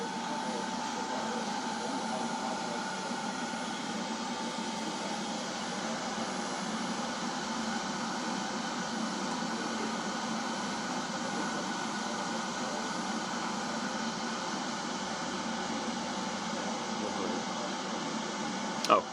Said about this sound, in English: Cool the unit off a little faster by opening the blower back up